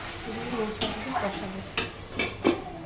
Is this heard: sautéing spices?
yes